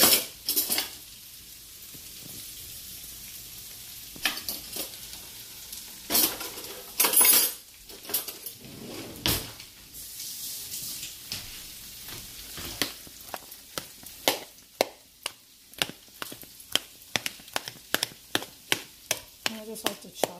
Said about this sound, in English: Now I'm just going to take a butter knife to chop that avocado up.